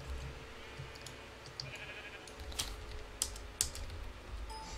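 Sheep bleating in Minecraft, several short digital bleats scattered across a steady game backdrop, mixed with keyboard typing and clicking.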